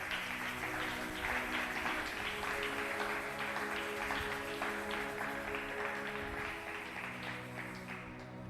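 Congregation in a church applauding during a sermon, steady broadband clapping mixed with sustained music or voices underneath, continuous and fairly even, easing slightly near the end.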